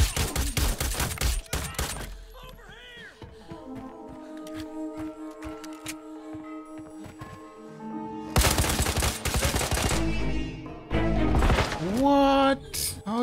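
Gunfire in the shooter game Arena Breakout with an M1911 pistol build: sharp bursts of shots and rapid volleys, loudest in the closing seconds, mixed with game effects and a talking voice.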